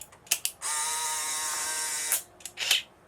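A Polaroid SX-70 camera fires its shutter for a double exposure, quick mechanical clicks followed by a steady motor whir lasting about a second and a half, then more snapping clicks.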